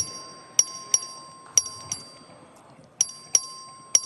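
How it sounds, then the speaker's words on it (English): Electronic voting bell in a state House of Representatives chamber, sounding as a series of clear, ringing bell strikes in two clusters with a pause between, close and bright over quiet room noise. "The clerk will ring the bell."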